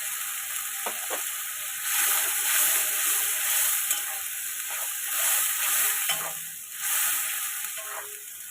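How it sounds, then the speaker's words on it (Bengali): Green chilli, ginger and garlic paste sizzles in a hot pan, and a spoon stirs it with repeated close scraping swells over a steady frying hiss. "এগুলো সামান্য ভাজা ভাজা করে নেব"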